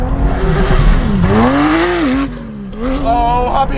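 A Porsche 911 converted into an off-road trophy truck revs hard in second gear, the engine note climbing, dipping and surging again close and loud, with tire noise mixed in.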